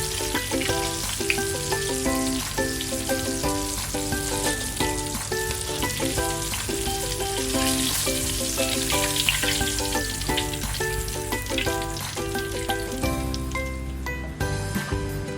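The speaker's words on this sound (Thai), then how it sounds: "ทอดด้วยไฟกลางค่อนแรงนะครับ ทอดไล่ความชื้นไปเรื่อยๆครับให้ปลาของเรากรอบ" Tilapia deep frying in oil over medium-high heat gives a constant dense sizzling crackle throughout, steady and close, under a continuous layer of background music.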